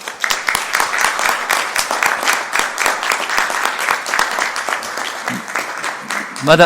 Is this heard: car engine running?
no